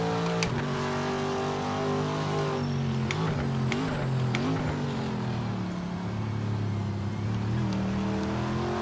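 Race car engine from outside the car in the Project Motor Racing video game, a sustained harmonic drone with rising and falling pitch sweeps as it revs and shifts, plus sharp clicks, at moderate level with no talk.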